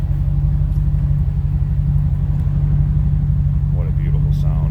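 A 1990 Chevrolet Corvette ZR1 V8 idles with a deep, steady rumble close by, loud and constant throughout, while a voice briefly speaks near the end.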